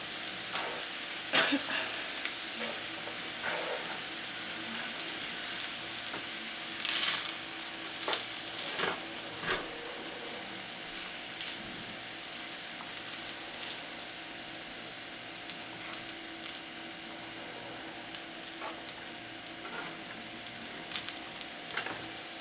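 Shrimp fried rice with soy sauce frying in a pan, a steady low sizzle with occasional scrapes and stirring clicks, fairly quiet and close, with no speech.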